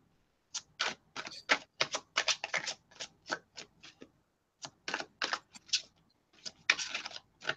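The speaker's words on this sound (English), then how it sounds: "You're riffle shuffling, aren't you?" Playing cards riffle shuffled over and over, a close, crisp run of rapid papery bursts with brief pauses between them, heard alone without any talking.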